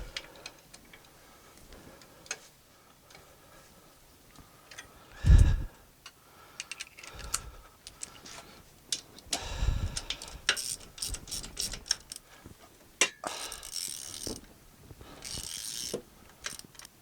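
Bolts on the hydraulic valve chest of a David Brown 990 tractor being nipped up with a ratchet spanner: scattered faint metallic clicks and ticks, with one louder knock partway through, in a quiet workshop.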